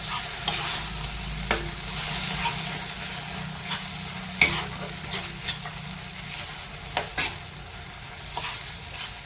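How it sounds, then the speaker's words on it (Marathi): Onion gravy for restaurant-style bhindi sautéing in oil in a pan, a steady close sizzle broken by repeated scraping stirs of the spoon, with no voices. "ग्रेव्हीसुद्धा पहा हे आपण कांद्यामध्ये व्यवस्थित परतून घेत आहोत अगदी तेल सुटेपर्यंत आपल्याला ग्रेव्ही परतून घ्यायची आहे"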